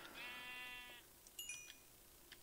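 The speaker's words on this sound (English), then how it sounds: "Did you hear that sheep?" A single drawn-out Minecraft sheep bleat, fairly quiet, followed by a few faint clicks and a brief higher tone.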